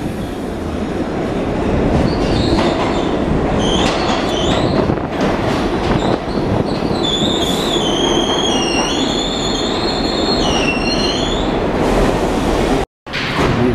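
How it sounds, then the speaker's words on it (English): A loud, continuous rumble of a New York City subway train in motion, with rattling wheels and high metallic squeals rising and falling over the roar. "we're going to take the first train that I've had taken in over 10 years"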